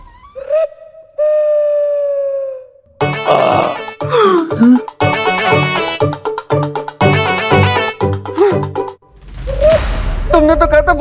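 A loud, drawn-out comic burp after a royal feast, made up of several rough, bursting grunts and belches in a row, broken by short gaps and a whistling tone at the start.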